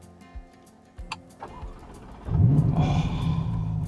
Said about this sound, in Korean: 여기 있는 엔진 스타트 스탑 버튼은 아니고 이 자리를 터치하시면 시동이